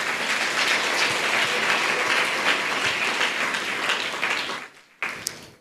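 Audience applause at a gathering, dense sustained clapping from many hands that fades out near the end, followed by a couple of isolated claps.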